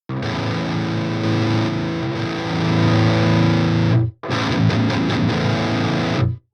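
Guitar through the Mercuriall Euphoria amp simulator in triode mode, heavily distorted and saturated, with thick sustained chords that cut out briefly before a second burst of chugging, slightly darker-toned riffing.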